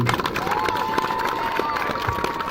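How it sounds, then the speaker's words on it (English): An indoor audience at a youth football awards ceremony applauds and cheers the 6U team, a dense wash of clapping with crowd noise and children's shouts throughout. "Let's give a round of applause for our"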